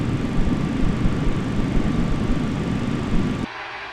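MD-80 airliner jet engines spooling at takeoff thrust in a flight simulator, a loud continuous roar with a thin whine on top, cutting off abruptly near the end.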